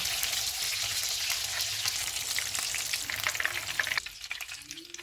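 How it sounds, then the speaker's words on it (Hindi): Gola kebabs frying in hot oil give a dense, steady sizzle with occasional stirring scrapes, loud and close, then the bubbling thins out near the end. "कबाब फ्राई हो गए हैं, इनको निकाल लेते हैं।"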